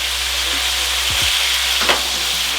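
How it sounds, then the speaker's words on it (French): Pork pieces frying in very hot oil in a pan give a steady, close sizzle throughout, with a couple of brief low knocks and a short scrape partway through. "On prend le porc et on le place dans la poêle."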